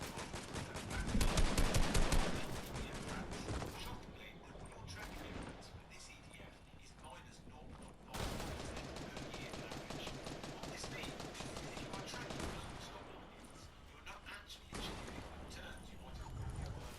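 Gunfire rattles through a Fortnite match in rapid bursts and repeated volleys, loud and dense, with a voice talking over parts of it.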